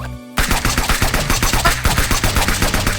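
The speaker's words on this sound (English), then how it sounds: "I'm shooting zombies!" Rapid automatic gunfire from zombie shooting in a video game, a loud steady stream of shots about four per second that starts abruptly and runs on alone.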